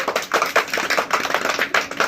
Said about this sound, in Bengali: বারিশের জন্য সবাই একটু হাততালি দাও।